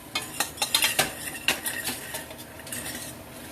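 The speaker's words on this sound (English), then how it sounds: "Just saute the onions." Onions sautéing over medium-high heat in a pan for chili, heard as a series of sharp utensil clinks and scrapes against the pan over a soft sizzle, close and fairly loud, with no talking.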